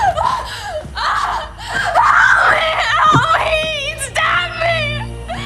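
A woman's shrill, sustained screams from the horror film Scream 5, rising and wavering in loud, close bursts with breathy, sobbing catches between cries and no clear dialogue.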